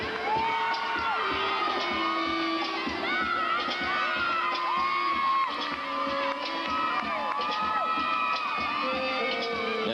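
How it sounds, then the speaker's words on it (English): Stanford gymnastics team members screaming and whooping in support at a college women's gymnastics meet, many high overlapping shrieks and cheers rising and falling over a busy arena crowd. "those screams of support you hear are coming from the Stanford team members"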